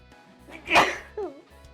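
A single close sneeze bursts out, loud and breathy, followed by a brief voiced sound afterward.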